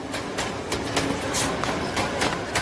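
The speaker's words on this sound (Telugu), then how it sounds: "నాన్న ట్రైన్ వచ్చినట్టుంది" A local train rumbles steadily nearby as it arrives, with broadband mechanical noise and periodic clanks, continuous and fairly loud throughout, no talking.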